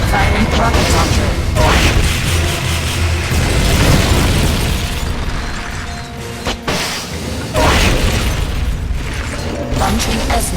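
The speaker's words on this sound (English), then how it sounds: "Firing rocket launcher" A rocket launcher fires in the Metal Gear Solid Peace Walker video game, loud booming blasts and explosions mixed with mechanical clanks, dense and close, with a brief lull before another heavy burst.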